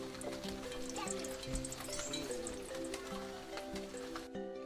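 Light drizzle falling outdoors in the rainy season, a steady soft patter of drops under a continuous hum of background noise and faint musical tones, with no distinct voices.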